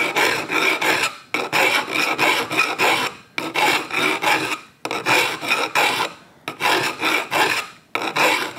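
A hand file cuts a miter into a steel bicycle frame tube for a gravel bike, with about six bursts of quick, rhythmic rasping strokes, loud and close, separated by brief pauses and with no talking.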